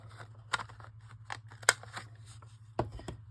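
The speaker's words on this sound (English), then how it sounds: "I need to round the opposite" A corner rounder punch clips the corners of single sheets of copy paper, several sharp separate snips spaced irregularly over a low steady hum.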